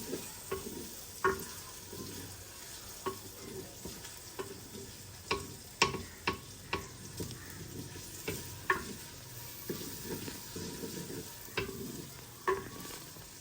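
Onions browning in a frying pan in a village kitchen, with steady soft sizzle and frequent sharp clicks of a spoon stirring against the pan, no talk.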